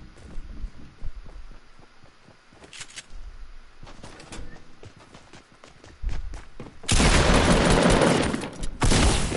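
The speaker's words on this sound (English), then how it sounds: "Stop shooting at me, please." Rapid bursts of drum gun fire in a shooter video game, scattered shots early then a loud sustained volley near the end, with footstep-like thuds between.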